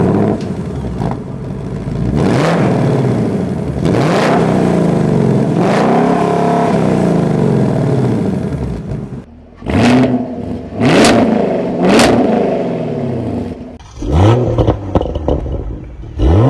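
A Ford Mustang GT, Chevy Camaro or Toyota Supra sports car engine revs hard and accelerates loudly, with a long sustained pull, then a series of sharp throttle blips and revving bursts close to the microphone.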